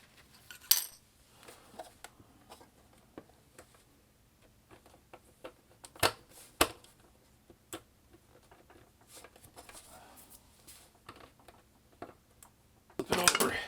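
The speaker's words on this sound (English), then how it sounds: "We'll just put a few screws in here." Screws being driven into the bottom panel of a Roland R-70 drum machine during a bench repair: scattered small metallic clicks and ticks of a screwdriver and handling, with one louder clatter near the end.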